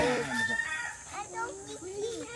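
A rooster crows nearby at a rural spot in Laurel, Batangas, one drawn-out cock-a-doodle-doo call followed by a few softer clucking notes, fairly faint.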